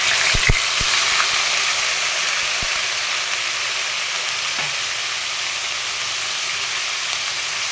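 Ground onion paste fries in a pan with a steady, close broadband sizzle and hiss that runs throughout, broken by a few sharp clicks of stirring near the start.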